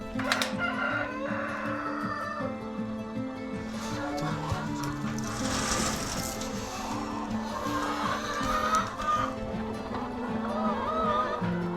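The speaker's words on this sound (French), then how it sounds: "Caché derrière la route, à l'abri des regards, voici le poulailler." Chickens cluck and a rooster crows inside a henhouse tucked behind a road on Rurutu island in Polynesia, a dense, continuous barnyard chorus with a louder crow rising near the middle.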